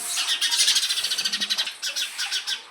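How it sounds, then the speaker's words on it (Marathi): Sparrows chirping in the morning outdoors, a close, rapid run of bright, evenly spaced tweets followed by a few separate chirps, clear and alone. "अशा चिमण्यांच्या चिवचिवाट आणि आमची सकाळ झाली"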